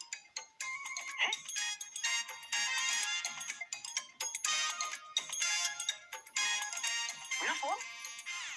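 A bright electronic mobile phone ringtone plays a repeating melody, fairly quiet, with a voice speaking over it at moments.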